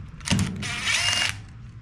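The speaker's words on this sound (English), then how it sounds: "let me get my bit for the drill. I don't feel like using a manual screwdriver." A power drill fitted with a screwdriver bit whirs in a short close burst, pauses briefly, then runs again for about a second, working on a Husqvarna 128LD string trimmer.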